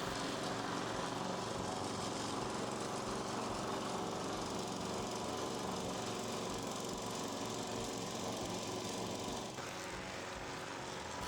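A GRIN HM46A lawn mower cuts grass on a large lawn, its engine droning steadily and evenly at a moderate distance, easing slightly in tone near the end, with no voices.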